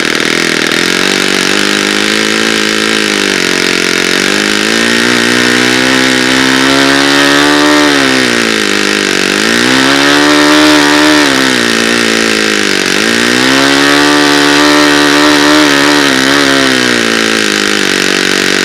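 A small four-stroke model engine runs loud and close on rich break-in fuel, its rasping drone rising and falling in speed in repeated swells and dips throughout.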